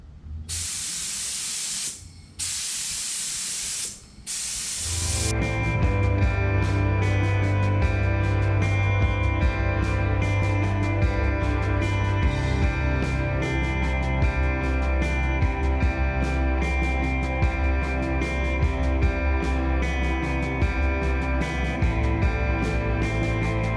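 Spray gun hisses out clear coat onto a Honda CRX Si bumper in a few short bursts, then runs as one long steady spray with a compressor hum underneath, close and loud, with no talking.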